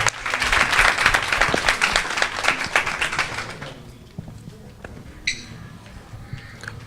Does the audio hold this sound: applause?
yes